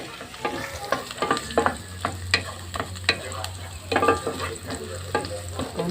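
Garlic sautéing in a hot pan while mussels are prepared, a close sizzle broken by repeated stirring and scraping clatters at an uneven rhythm, with no talk.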